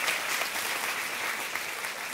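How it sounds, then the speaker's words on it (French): A church audience claps hard and continuously at a sermon, producing a thick, even wash of applause with no pauses. "Applaudissez bien fort."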